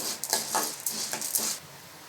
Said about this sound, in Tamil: உளுந்தை கருகிடாமல் பொன்னிறமாக நல்லா வறுத்து எடுத்துடலாம்